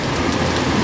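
Steady rain drumming on a house roof, a dense, even hiss of drops that stays loud and constant throughout with no voices.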